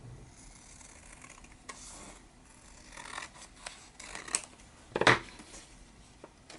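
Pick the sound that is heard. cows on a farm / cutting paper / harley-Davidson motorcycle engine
cutting paper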